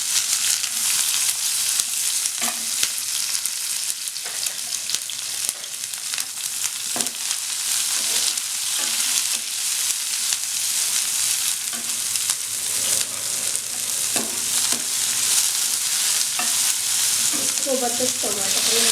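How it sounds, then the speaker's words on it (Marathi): Chopped onion frying in hot oil with peppercorns and cloves in a kadai for kadai paneer, a loud, even, continuous sizzle with occasional faint stirring clicks and no voices. "यामध्ये आपण कांदा घालूया"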